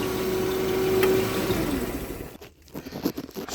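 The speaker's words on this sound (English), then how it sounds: "because the engine's still running." A Hyundai 2.5L engine with a hard-start fault runs steadily after cranking, giving a continuous, moderately loud hum with a faint tonal whine. It drops off and turns irregular near the end.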